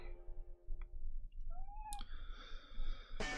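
A cat in the PS1 game Action Man: Destruction X lets out a faint meow over a quiet game background, followed by clicks and a rising electronic tone, ending in a sudden burst of noise.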